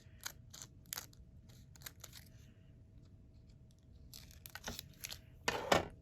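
Scissors snip rough pieces of material in a series of quick crisp cuts with rustling handling between them. The cuts are close and fairly quiet, and a louder crinkly burst comes at the end.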